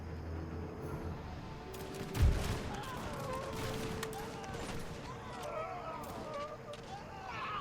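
A musket volley fires in an American Revolution battle video game, a sharp loud burst under ongoing crackling battle noise and ambient game sound, with scattered shots and clatter continuing after.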